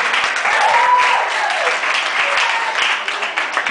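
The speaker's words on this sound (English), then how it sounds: "So if you give them a round of applause, please." Wedding guests at a reception break into a round of applause, a dense, steady clatter of many hands clapping together for several seconds at close range, with a faint cheer or voice briefly rising within the crowd.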